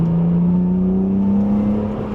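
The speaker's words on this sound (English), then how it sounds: "let's give it some revs" A BMW S54 inline-six is revved up to about 4,000 RPM, a loud, steady, rising drone close by that holds without pause.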